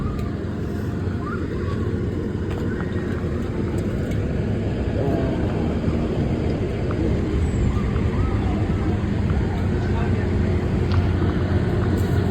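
A fire truck idles close by at a small fire at a mall, its engine a steady, dense low rumble that fills the whole stretch without a break.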